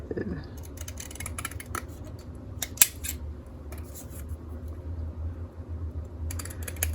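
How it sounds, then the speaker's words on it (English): Scissors snip along a wide border of a paper stamp sheet in a run of quick, close cuts, with a faint fan-like hum underneath and no talking. "I think I'm going to cut off this. It's got a wider border."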